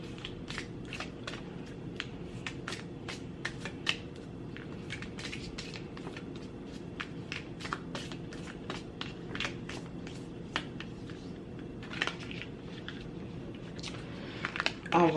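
Cards are shuffled by hand in a steady run of soft, crisp riffling taps over a low background hum. The pace stays fairly even, with a slightly louder flurry near the end as one affirmation card is drawn.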